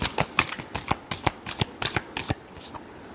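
A deck of tarot cards is riffle-shuffled up close in a quick run of crisp, fluttering bursts, each ending in a soft slap, before the cards settle.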